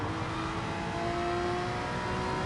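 A Porsche GR3 race car engine in a simulated race holds a steady, sustained drone close up, running at a high, even pitch for the whole stretch with no other sounds over it.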